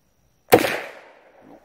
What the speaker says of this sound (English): I don't think I can hit that with a 22 rifle